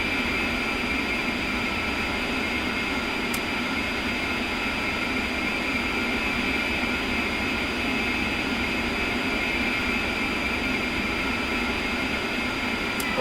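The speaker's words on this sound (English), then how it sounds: "you can turn off the APU generator on the electrical panel and then the APU itself on the throttle panel" Twin jet engines of an A-10C in a flight simulator whine and roar at a steady, unbroken level with a constant high-pitched hiss, continuous and close throughout.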